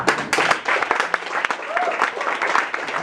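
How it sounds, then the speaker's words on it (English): An audience at a grand opening claps loudly and unevenly for three seconds, with individual hand claps standing out over a rough, uneven texture and voices mixed in. "Please clap your hands now"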